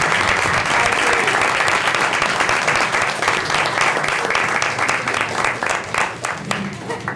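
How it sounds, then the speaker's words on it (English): A round of applause fills a city council meeting in Harahan, dense, steady clapping from the gathered audience that holds strong for about seven seconds, with voices faintly mixed in beneath. "How about we give a nice round of applause?"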